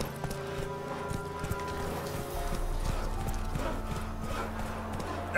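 Hooves of the horse Roach clip-clop at a steady trot in The Witcher 3, a continuous rhythmic clatter over a low ambient game soundscape, with a brief swell near the end.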